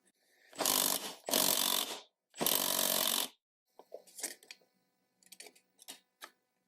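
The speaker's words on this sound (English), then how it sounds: "reverse thread, so I'm in loosened position on the impact" An impact wrench loosens a reverse-thread part on a Stihl MS661 chainsaw during a piston and ring rebuild, with three loud rattling bursts followed by light metallic clicks and taps in a quiet room.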